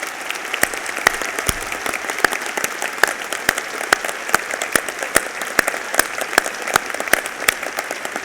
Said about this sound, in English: please join me in a nice, warm North Dakota round of applause for these great individuals.